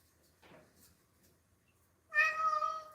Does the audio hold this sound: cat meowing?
yes